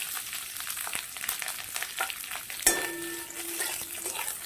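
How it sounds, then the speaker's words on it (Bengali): Capsicum frying in hot oil gives a steady, close sizzle, with brief clinks and a sharp metallic knock partway through followed by a short ringing tone; no voices. "এই তেলেতেই আমি সিমলা মির্চটা ভেজে নেব"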